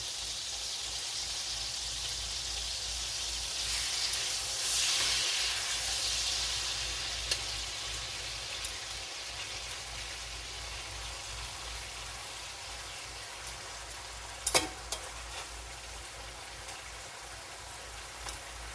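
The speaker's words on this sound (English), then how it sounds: "I wasn't going to sear the steaks, but yeah, I'll sear them." Steaks searing on high heat in a hot pan for drunk steak, giving a steady broadband sizzle that holds close and fairly loud throughout, with a few brief clinks partway through.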